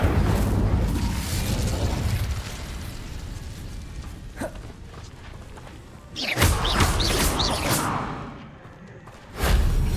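Incendio fire spell cast in Hogwarts Legacy, a burst of whooshing flame with a heavy boom, rising sharply after a rumbling ambient stretch and followed by a second loud swell near the end.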